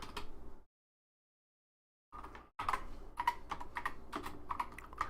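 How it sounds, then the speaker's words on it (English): A computer keyboard clatters with bursts of quick key presses, stopping for over a second of silence before resuming in a busy, uneven stream of clicks close to the mic, with no talking. "What the fuck is wrong with my keyboard?"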